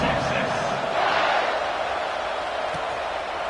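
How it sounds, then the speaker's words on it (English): Football stadium crowd at a Texas v Florida State game roaring steadily as the kickoff unit takes the field, a dense, sustained wash of cheering with a commentator's voice over it. "this crowd is feeling themselves after that last drive"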